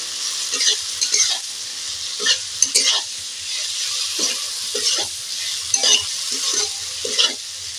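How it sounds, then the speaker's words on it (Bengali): Soybean chunks being stirred through sizzling spice masala in a pan, with repeated scraping strokes of the spoon over a steady frying hiss, close and continuous with no talking. "সয়াবিনটা এই মশলার ওপরে দিয়ে দিলাম দিয়ে আমি এইভাবে নাড়বো"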